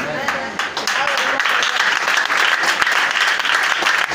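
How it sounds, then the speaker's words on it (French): A church congregation claps enthusiastically in a dense, continuous wave of applause lasting several seconds, with some voices mixed in beneath the clapping. "Donnez l'acclamation à Jésus."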